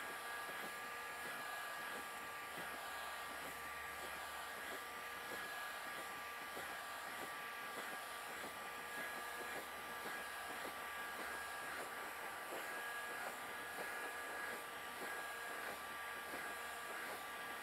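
A heat gun blows steadily in a workshop as it warms the welded and glued seams of an inflatable boat, a constant fairly faint whooshing hum with a faint whine running throughout and no talk.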